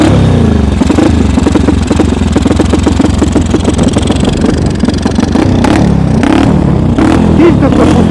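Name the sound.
homemade tracked snowmobile engine revving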